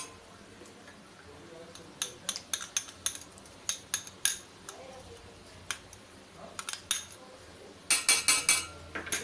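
A spoon stirring a milk sharbat mixture in a metal vessel, giving scattered bright clinks and taps at irregular intervals and a quick burst of ringing knocks near the end, over a quiet room background.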